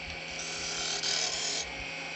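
A wood lathe spins at about 2,500 RPM while an ornament is turned, giving a steady, close, continuous broadband whir with a brief louder rasp in the middle.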